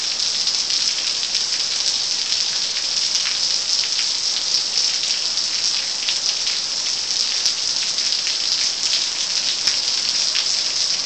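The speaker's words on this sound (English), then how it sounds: "It's raining." Steady, dense rainfall hissing continuously in Spain, with fine drops pattering on a surface and no voices.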